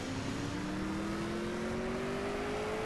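A car accelerating on nitrous in the CSR2 drag-racing game, a loud continuous engine whine climbing steadily in pitch through the run, with no talk over it.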